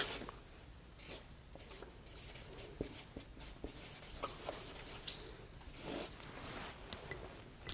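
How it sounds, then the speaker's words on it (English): Pen writing by hand on paper, a close, quiet scratching and rubbing that comes in short strokes and bursts with brief pauses, alone without talking. "Then, after that, I write my gratitudes."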